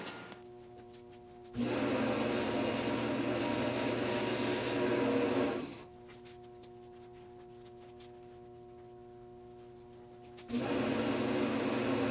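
A bandsaw runs with a steady motor hum and then cuts a shaped part for a car seat in a 1966 Triumph Spitfire MK2 restoration, with loud sustained grinding during two long passes and idle running in between.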